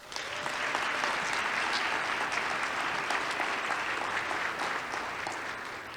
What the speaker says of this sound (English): Please give one more round of applause for all our student presenters today.